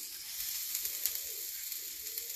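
Onions sizzle on an oiled cast iron griddle set on a Kamado Joe grill, a steady close hiss of frying with small crackles and pops at even loudness.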